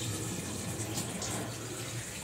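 Hot water poured from a vessel into a bread dough mixture for home bread-machine bread, a steady soft splashing trickle that runs throughout.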